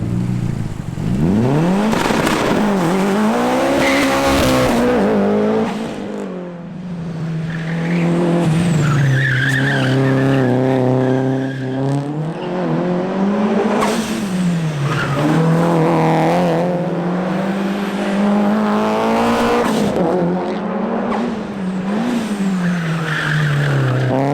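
A Mitsubishi Evo race car driven hard on a track, engine loud and close with rising and falling revs through gear changes and long stretches of squealing, skidding tires, no voices.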